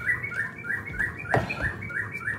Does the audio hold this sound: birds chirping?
yes